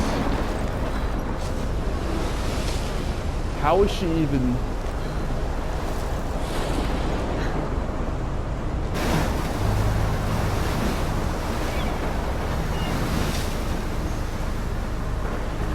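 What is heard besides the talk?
waterspout and ocean waves in the video game Life is Strange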